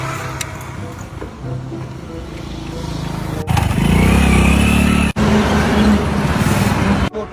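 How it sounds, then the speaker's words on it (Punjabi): A motorcycle engine idles, then revs into a loud, steady run that holds for several seconds before cutting off abruptly near the end, with no voices over it. "ਚੱਲ ਬਹਿ ਮਗਰ ਮੋਟਰਸਾਈਕਲ ਦੇ"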